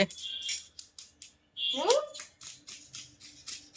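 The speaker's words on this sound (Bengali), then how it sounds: "মাছের আঁশ ছাড়ানো হচ্ছে বর্তমানে।" Fish being scaled with a spoon at home: quick repeated scraping strokes in a steady rhythm, close and moderately loud, with a sharper rasp partway through.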